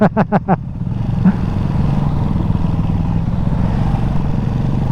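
A Ducati Hypermotard 698 Mono single-cylinder motorcycle starts with a few sharp throttle blips, then settles into a loud, steady, close engine drone while being ridden.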